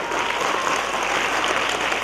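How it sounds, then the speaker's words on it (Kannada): Steady, dense applause from a school annual day audience fills the whole stretch, loud and even with no talking over it. "ಅವ್ರಿಗೂ ಸಹ ಒಂದು ಜೋರಾದ ಚಪ್ಪಾಳೆ ಶ್ರೀನಿವಾಸ ಅವರಿಗೆ."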